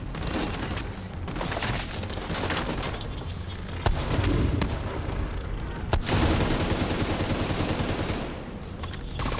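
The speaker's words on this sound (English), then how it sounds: "Cluster bomb out." Rapid overlapping blasts and bursts of gunfire from a cluster bomb detonating in the shooter game The Division 2, a dense, loud barrage running throughout with sharper booms near the middle.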